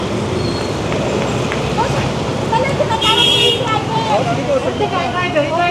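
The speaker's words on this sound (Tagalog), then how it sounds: "ang daming motorsiklo dito" Busy street traffic on a long road lined with many motorcycles and tricycles, engines droning close by with horn toots and crowd babble, while people talk over it.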